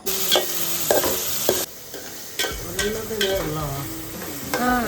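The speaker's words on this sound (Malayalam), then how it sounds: "അന്നേരം നമുക്ക് അതൊന്ന് നല്ല രീതിയിൽ വഴറ്റിയെടുക്കാം ഗൈസ്" Masala filling for masala dosa sautéed in a pan, a spatula scraping and stirring in irregular strokes over a soft sizzle, with a few sharper clinks of metal against the pan.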